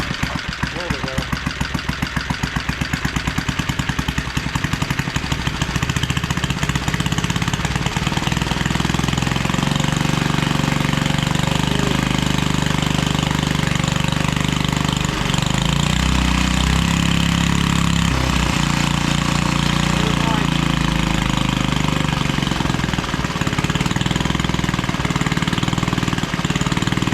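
A repaired Briggs and Stratton small engine runs loud and close for a long stretch, a rough, rapid chugging idle with revs rising and falling as throttle is added, voices speaking faintly under it.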